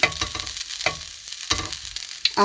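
An egg burger cooks slowly in a pan for a street-food-style breakfast. A steady, close sizzle runs throughout, with repeated scraping strokes of a utensil stirring or shifting it and no talk.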